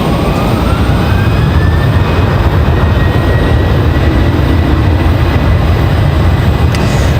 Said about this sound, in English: Pushing back down here just below us. Republic Airways 4707, that one headed to LaGuardia.